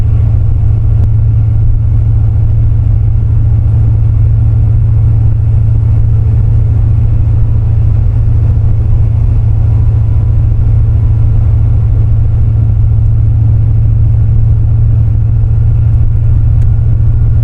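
Steady low rumble of a finished C4 Corvette with Crossfire injection cruising on a road test, the engine droning loudly and evenly from inside the car with no talk.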